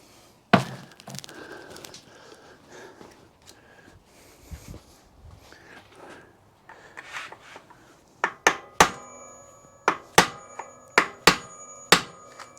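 Sharp metallic hammer strikes on an electric bike part ring out, scattered at first, then a steady series of loud blows spaced about a second apart.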